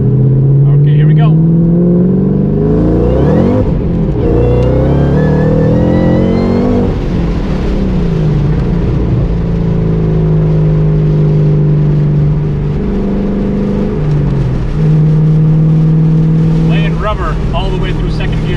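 A 2013 Shelby GT500 pulls hard through second gear, its loud engine note rising steadily in pitch as revs climb over close, continuous cabin noise, then settling after the shift.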